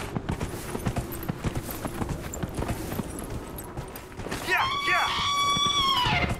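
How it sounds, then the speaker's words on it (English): Horse hooves clip-clopping steadily in a Dragon Age Inquisition game, followed by a loud, shrill neigh with rising and falling whinnies near the end, while someone talks throughout. "My steed's a little freaked out here, I guess."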